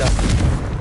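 Confringo blasting spell exploding in Hogwarts Legacy on PS5, a deep booming blast that fills a brief moment with a dense, rumbling burst and no break in loudness.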